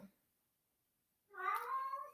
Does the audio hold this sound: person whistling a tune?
no